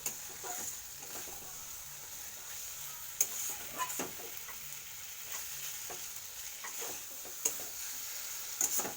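Spice paste frying in oil for a fish curry, a faint steady sizzle with occasional sharp clinks and stirring scrapes, no talking.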